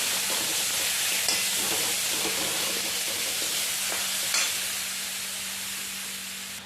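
Colocasia stalks and field beans sauté in hot oil with a ground spice paste. A steady, even sizzling hiss fills the whole stretch, with a few faint clinks of a stirring utensil, close by and uninterrupted.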